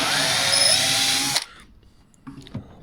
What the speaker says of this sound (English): I'd better drill this hole out a little bit